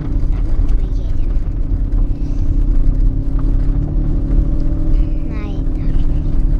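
A car drives along at steady speed, producing a constant low road rumble and engine drone from inside the cabin, with faint brief sounds above the hum.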